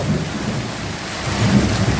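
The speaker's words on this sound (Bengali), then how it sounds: "ম্যাঘ ডাকছে" A low, rolling rumble of thunder over steady rain, swelling slightly toward the end.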